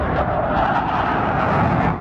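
Military planes and other aircraft fly overhead at the Great Colorado Air Show in Loveland, making a loud, steady engine roar that stays broad and constant without a break.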